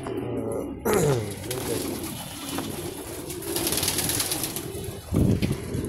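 Racing pigeons in a loft coo repeatedly at close range, with soft overlapping calls and occasional bursts of wing flapping.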